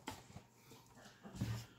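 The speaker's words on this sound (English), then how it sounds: "pardon the dog in the background just being a little..." A dog whimpers softly in the background, with a few faint whining cries in a quiet room.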